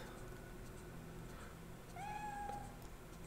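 A cat in the horror video game Project Zero 3 lets out a single clear meow midway, rising over a low, droning game ambience with no talking.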